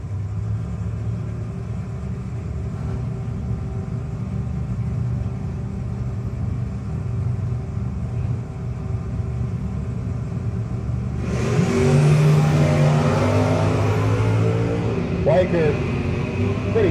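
A Chevrolet Camaro drag race car revs its engine at the start line, a low steady rumble swelling louder partway through, heard under a trackside announcer's voice.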